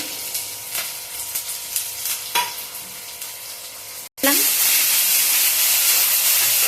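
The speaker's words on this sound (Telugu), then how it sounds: "కొంచెం మగ్గినాయి, ఫ్రై అవ్వినాయి ఉల్లిగడ్డలు" Onions, curry leaves and green chillies frying for mutton curry, with steady stirring and scraping, then a sudden loud, continuous sizzle and steamy hiss as more goes into the hot pan.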